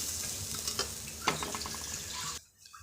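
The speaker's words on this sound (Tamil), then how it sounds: "இதை வந்து கொஞ்சம் லைட்டாக அந்த ஈரப்பதம் போகிற அளவுக்கு கொஞ்சம் வறுத்து எடுத்துடலாம்" Grated coconut is dry-roasted in a pan for uppu seedai, a soft rustling sizzle with a few light scrapes of stirring, close and quiet, cutting off abruptly near the end.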